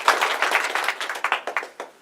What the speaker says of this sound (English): So please give our employers a round of applause for their leadership.